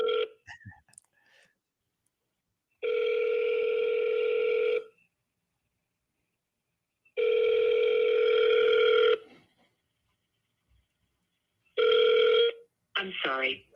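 An outgoing telephone call sounds a steady electronic ringback tone in three long bursts separated by silence, clear and close, followed by a short automated voice.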